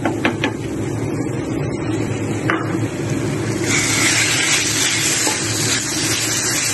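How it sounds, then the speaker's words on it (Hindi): Chicken pieces fry in a pan for white sauce pasta, giving a steady close sizzle that swells brighter and louder partway through, with faint stirring clicks and no talk. "चिकन को हम फ्राई करेंगे जब तक ये वाइट नहीं हो जाता है"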